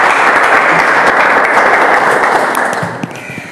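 Loud, sustained audience applause at a youth motivational talk in a hall, dense clapping that holds steady before thinning slightly near the end, with no voices over it.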